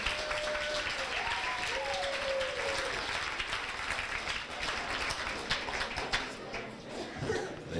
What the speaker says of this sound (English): give it a nice round of applause for Coach Jett